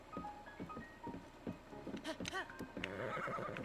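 A horse in The Legend of Zelda: Breath of the Wild whinnies with a rising, wavering neigh amid clip-clopping hooves and small game sounds, with no talk over it.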